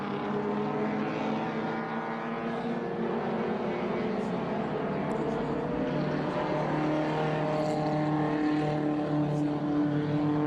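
Vintage race cars, an MGB and an Alfa Romeo, climbing a hill through a left-hander at Watkins Glen, their engines droning in a steady, harmonic-rich roar at moderate distance throughout.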